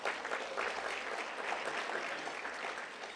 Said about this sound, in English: let's give them a round of applause as well